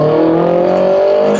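A Nissan S14 with an SR20 engine pulling hard in second gear: a loud, close, sustained engine drone climbing steadily in pitch under acceleration, heard from inside the car.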